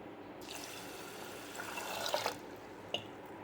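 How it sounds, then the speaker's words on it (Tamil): Water being poured onto washed raw rice and moong dal in a pot for milagu pongal, a close splashing pour that swells and then fades, followed by a single drip-like clink. "இப்போ இதுக்கு தேவையான அளவு தண்ணி ஊற்றி இதை வேக வச்சுக்கலாம்."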